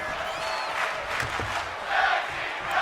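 A tag team wrestling match crowd roars and cheers in a loose, continuous wash of voices, swelling louder toward the end.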